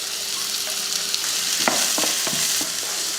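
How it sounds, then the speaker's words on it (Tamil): Sliced onions and curry leaves with a little fennel sauté in hot oil, a loud steady sizzle broken by several scraping stirs of a spoon against the pan, with no voices. "வெங்காயம் வந்து நல்லா வதங்கட்டும்."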